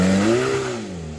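A 1200hp hypercar pulls away hard, its engine note rising in pitch and then easing off after a quick shift, loud and close with no talking.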